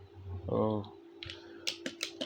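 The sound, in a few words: computer keyboard keys pressed while drawing in CAD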